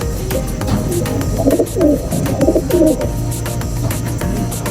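Male breeding pigeons in a loft coo in repeated soft, throaty phrases close by, clustered in the middle of the clip over a steady background hum.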